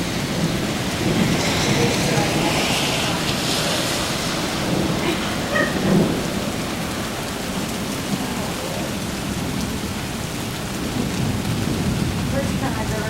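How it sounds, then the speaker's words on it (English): Steady heavy rain in Hamilton, a continuous dense hiss of drops on surfaces with a low rumble like distant thunder underneath, holding at an even loudness throughout. "Oh no, the rain."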